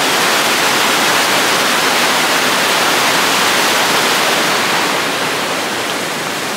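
Loud, continuous roar of a nearby waterfall, dense rushing water with no breaks, easing slightly toward the end.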